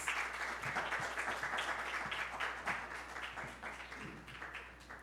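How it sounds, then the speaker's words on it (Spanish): Attendees at a professional forum on transmedia narratives applaud the panelists, a fairly faint, steady patter of many claps that gradually tapers. "Les invito a que les brindemos un aplauso a nuestros panelistas"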